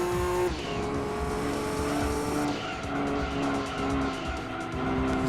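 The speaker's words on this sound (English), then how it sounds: "It sounds like there's a cylinder missing. Sounds like there's a proper cylinder tapping." Racing car engine in Gran Turismo 2 running rough as if a cylinder is missing, a steady buzzing drone with tire squeal and a brief shift near the start, no voices.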